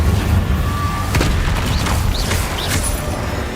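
Incendio fire spell cast in the Hogwarts Legacy video game, a dull booming burst amid rumbling combat noise and sharp whooshing effects, loud and dense.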